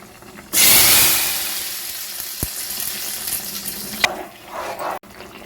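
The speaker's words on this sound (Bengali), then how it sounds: "ফোড়নটা আমি খুব ভালো করে ভেজে নিয়েছি খুব সুন্দর মিষ্টি একটা গন্ধ বেরিয়েছে এবারে আমি তরকারির মধ্যে ঢেলে দেব" Hot fried five-spice tempering poured into a rohu fish curry, a sudden loud burst of sizzling that slowly fades into a softer bubbling hiss, with a brief clatter near the end.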